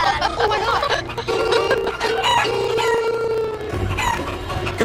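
Chickens cluck and squawk close by on a MasterChef Junior challenge set, a busy overlapping stream of calls with a rooster-like crow mixed in.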